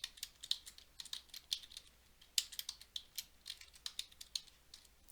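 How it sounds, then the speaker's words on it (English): Typing on a computer keyboard while writing a cover letter in Word: quiet, irregular clusters of light keystrokes with brief pauses, close by and alone. "Type in the company name."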